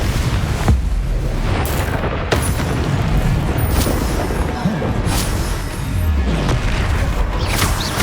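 Repeated Confringo blasting spells going off in Hogwarts Legacy, several loud booms and bursts scattered across the stretch amid constant game noise.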